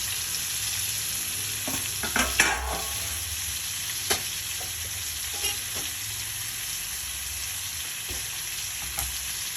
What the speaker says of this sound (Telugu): ఆవాలు చిరపట్లాడిన తర్వాత ఆనియకాయ ముక్కల్ని మనం దాంట్లో వేసాం